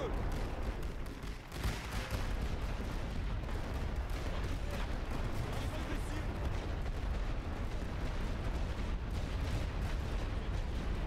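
Artillery fire in the WWI strategy game The Great War: Western Front, a dense, unbroken roar of overlapping booms and rumbling blasts that continues steadily for the whole stretch.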